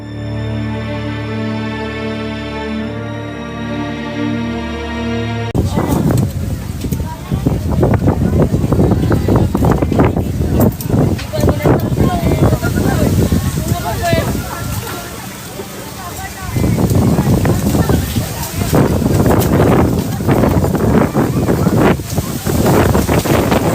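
Strong wind roars across Bukit Serindit in Melaka, a loud, continuous buffeting rush against the microphone that follows a brief musical opening and surges in gusts, easing briefly midway before returning.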